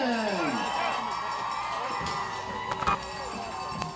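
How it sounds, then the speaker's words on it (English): A packed crowd at a high school football semi-final cheers as the North Haven Indians take the field, a dense roar from a distance with thuds and claps, a brass band playing and an announcer talking over it. "It is a packed crowd tonight."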